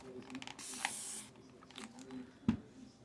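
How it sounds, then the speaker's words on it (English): A short burst of aerosol spray hisses for about half a second, followed by quiet handling noises and a sharp click. "let's spray this"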